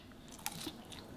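A close, crisp crunch as teeth bite into an air-fried chicken katsu curry burger with a crumb coating, followed by a moment of chewing.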